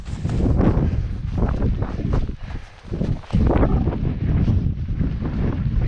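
Strong gusty wind buffets the microphone on a misty hillside on Skye, roaring loud and close in uneven surges with a brief lull midway.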